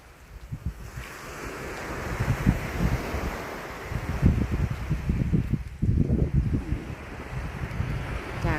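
Sea waves wash ashore on the Chumphon coast in Thailand near the Lomprayah pier, a surging, uneven roar with repeated swells, heavy wind rumble on the microphone and no voices.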